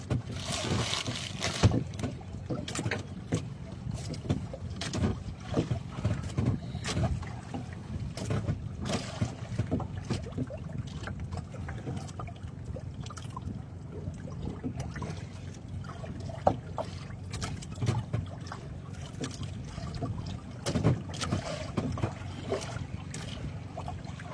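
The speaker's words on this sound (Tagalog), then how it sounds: "Naghangin na, naghangin." Steady wind buffets and rumbles for a long stretch on a boat during casting, with gusty swells and faint watery trickles mixed in.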